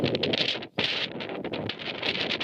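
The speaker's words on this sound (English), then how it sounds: "It's really windy today" Strong wind buffets and roars outdoors in a yard in Palmer, Alaska, gusting unevenly with rustling, loud and close throughout.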